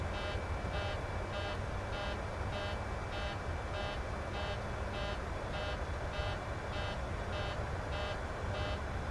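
A cockpit alarm in a PMDG 737 in Microsoft Flight Simulator beeps in a steady, repeating on-off pattern over a constant engine and cabin hum, at moderate volume throughout.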